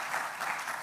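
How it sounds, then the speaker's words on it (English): Audience applause for panelists at a gas distributors' business forum, a short, even wash of many hands clapping at moderate volume. "A round of applause for my panelists"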